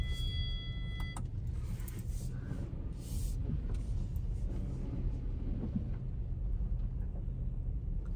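A Honda Amaze car drives along a rural road, a steady low engine and road rumble from inside the cabin that runs unbroken throughout with no talking.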